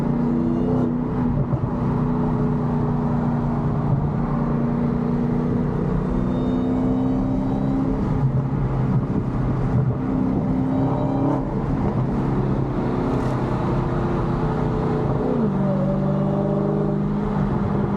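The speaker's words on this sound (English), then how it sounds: "You hear the engine farting?" A Hellcat-swapped car's engine drones loudly and steadily from inside the vehicle while driving, shifting pitch as it accelerates, with occasional sputtering exhaust pops and no speech.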